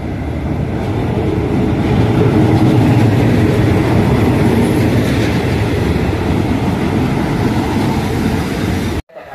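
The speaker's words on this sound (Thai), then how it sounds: "รถไฟกำลังมาเลยนะคะ กำลังที่กำลังจะเข้าสู่สถานีครับ" A passenger train arriving at a station in Thailand rumbles loudly and continuously nearby with rattling wheels on the rails, then the sound cuts off abruptly near the end.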